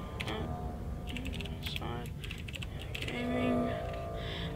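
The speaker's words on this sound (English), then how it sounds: "I had a loud keyboard" Rapid clicking of a loud computer keyboard being typed on during a gaming session, steady and close, with scattered brighter key strikes over a constant background hum.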